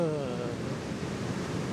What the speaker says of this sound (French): Une mer forte, des vagues de 2 à 3 mètres déferlent sur les plages.